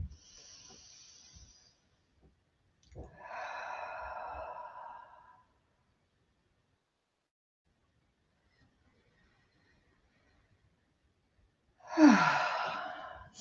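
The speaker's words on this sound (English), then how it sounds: "we'll just close the practice again with a couple of deep breaths" Deep breaths closing a yoga practice: slow, airy inhales and exhales, soft and close, spaced apart by long stretches of near silence, ending with a fuller sighing breath.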